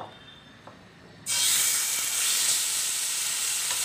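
Chicken pieces drop into a pan with a teaspoon of hot oil: after a quiet moment, a sudden loud sizzle bursts out and settles into a steady, close hiss.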